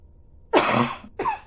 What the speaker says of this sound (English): A bit of a cough there.